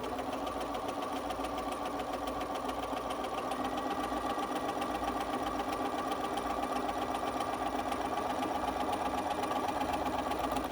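A BERNINA sewing machine stitches along the very edge of a folded face mask hem, its steady, rapid mechanical chatter running continuously at an even, close-up level without pause.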